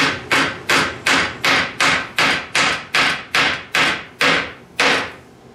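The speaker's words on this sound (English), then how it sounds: "And I know a ball peen hammer is not the correct tool for this." A ball peen hammer drives wooden plugs into a baby gate. Twelve sharp, close knocks come at a steady beat of about two per second, each ringing briefly, with no talking.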